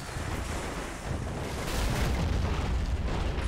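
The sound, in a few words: mortar shells exploding in video game Men of War: Assault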